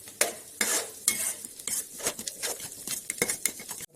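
Cloves and cinnamon are sautéed in a pan while frying chicken liver, with quick scraping stirs and soft sizzling in irregular bursts, close and fairly quiet.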